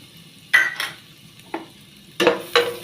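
Garlic stirred in a hot pan with melted fat for a beef and jute leaf (saluyot) molokhia dish: a few sharp clatters of a utensil against the pan over a faint, steady sizzle.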